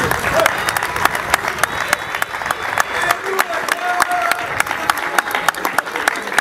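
Audience at a community fundraising event applauds the kitchen staff who cooked yassa overnight, a brisk crackle of claps with a few louder individual smacks and a faint murmur of voices.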